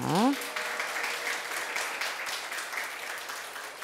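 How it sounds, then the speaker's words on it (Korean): Applause from a children's church worship service welcoming a police officer and a soldier as guests, a steady wash of claps from a small group after a brief voice at the start. "우리 박수로 환영하겠습니다"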